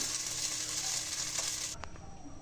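Chicken pieces sizzle steadily in a pan, a dense continuous frying hiss that drops off sharply near the end, followed by a couple of brief stirring clinks.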